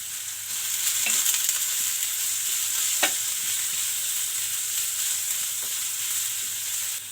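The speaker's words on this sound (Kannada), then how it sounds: "ಆನಿಯನ್ನ ಚೆನ್ನಾಗಿ ಫ್ರೈ ಮಾಡ್ಕೊಳ್ಳೋಣ." Onions, green chillies and curry leaves frying in a pan for a potato and capsicum palya, a steady close sizzle with a few light spoon taps and scrapes, no voices.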